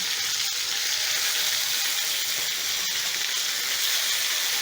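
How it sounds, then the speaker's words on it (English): A pork chop sizzles in a garlic skillet with a steady, dense frying hiss that runs unbroken and close, with a couple of faint pops and no voices. "After 2 to 3 minutes, I'm going to flip my pork chop."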